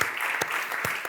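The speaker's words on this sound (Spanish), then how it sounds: "Ostres, pues això sí que merece un aplauso." Applause during an interview with an Aragonese sportswoman, a steady hiss of clapping with a few sharper claps standing out, brief and fairly close.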